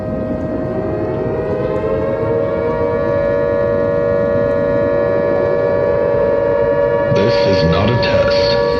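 Siren Head, a horror creature, gives a siren-like voice, a loud, sustained droning wail with a steady pitch that holds throughout and turns rougher and buzzier near the end, alone with no talking.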